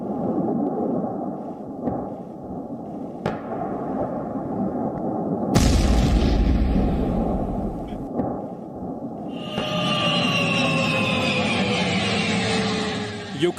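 Explosions in wartime Ukraine: a heavy, deep boom lands in the middle of a continuous low rumble, with a whistling whine and roar following. No speech.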